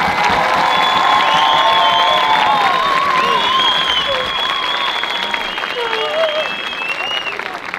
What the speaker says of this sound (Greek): Να υποδεχτούμε με ένα δυνατό χειροκρότημα